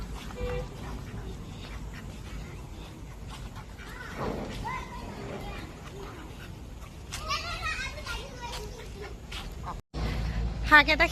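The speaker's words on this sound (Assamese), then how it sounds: "এয়া হৈছে আমাৰ হাঁহ" A small flock of domestic ducks is driven home in an Assamese village, quacking repeatedly at close range. Children's voices, a dog and panting sounds mix in, and the quacks grow louder and denser near the end.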